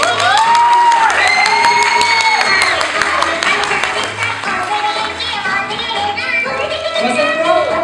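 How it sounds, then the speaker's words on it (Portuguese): Audience clapping and cheering at a cosplay parade at the IFcomic 2022 comic convention, a loud, dense wash of applause mixed with crowd voices and background music. "Salve de palmas, pessoal."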